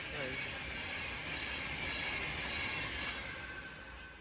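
A Class 390 Pendolino electric train passes through Cheadle Hulme station, a steady broadband rush of wheels and air at moderate distance, with someone talking over it.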